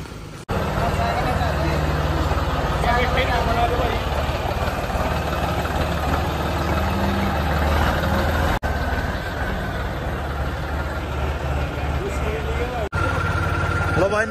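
A John Deere 5210 tractor engine runs steadily with a low, continuous drone, loud and close, carrying on for most of the stretch with a brief dip partway through, with voices faintly present underneath.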